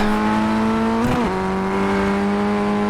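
A steady high engine drone from a Ray Race Cars Formula Ford FF 160 in iRacing, briefly broken by a sharp screech as a wheel locks under braking, then the engine resumes.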